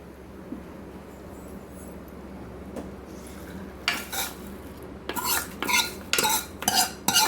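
Tempering for idli sambar is poured into the pot and stirred in, giving a few quiet scrapes early on, then several louder bursts of stirring and pot clatter near the end, close by with no talk.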